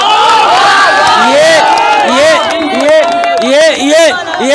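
A large political rally crowd cheers and shouts in loud, sustained waves, with chanting voices rising and falling close by throughout.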